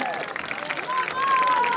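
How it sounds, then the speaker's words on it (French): An audience at a village festival game show applauds a contestant's first correct answer, a short burst of crowd clapping with voices and a sung or whistled melodic line over it. "Première bonne réponse, on peut l'applaudir bien fort"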